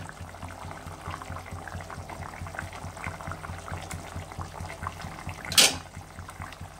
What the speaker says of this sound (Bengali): এবারে ঝোলে মাছটাও সেদ্ধ হবে